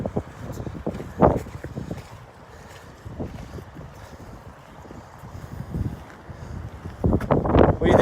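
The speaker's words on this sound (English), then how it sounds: "Ooh, she's windy here" Gusty wind buffets the microphone in heavy rumbling bursts, rising and easing, strongest near the end, with no voices.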